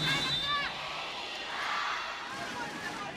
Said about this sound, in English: Crowd are happy